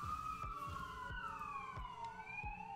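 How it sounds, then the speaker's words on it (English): An ambulance siren wails faintly in the background, its rising and falling tone sliding slowly downward as it passes, with a low rhythmic thumping underneath. "can you hear the ambulance in the background?"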